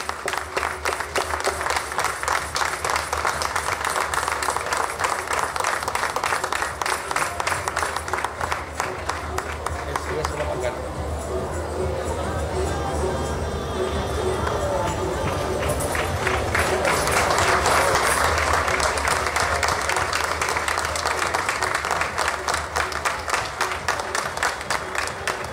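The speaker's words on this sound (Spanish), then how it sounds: "Un fuerte aplauso para la agrupación folclórica Noroeste Guiense." Applause for a folk music group at a folklore festival runs as sustained crowd clapping for about twenty-five seconds, steady and fairly close, swelling slightly in the latter half.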